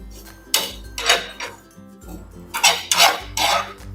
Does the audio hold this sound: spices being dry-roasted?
yes